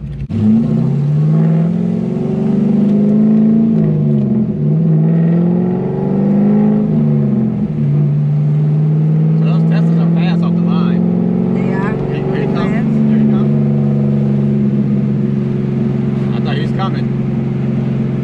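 A cammed C5 Corvette Z06 engine revs hard and accelerates, its rising drone dropping at each gear change before it settles into a steady loud hum, with people talking over it throughout.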